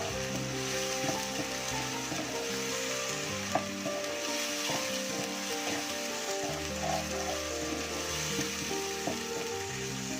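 Spices and masala sautéing in hot oil for a chicken gravy, a steady close frying sizzle with soft stirring scrapes, running continuously without talk.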